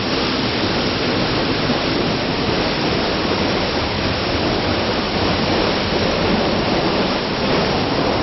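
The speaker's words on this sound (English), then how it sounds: "Here we move behind the waterfall." Standing behind the waterfall at Edessa, Greece, inside a crumbling cave: a thick, constant roar of plunging water, loud and near, washing evenly over everything without pause or speech.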